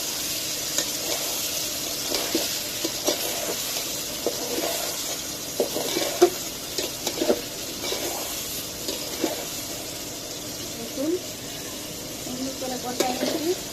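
Hilsa fish curry sautéing in a pan, with a continuous soft sizzle and scattered light stirring and scraping sounds, and a voice talking quietly over it at times.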